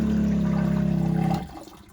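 A marine toilet pump cycling, a steady rhythmic mechanical churning with water moving through it, loud and close, running alone before cutting off abruptly and leaving quiet trickling.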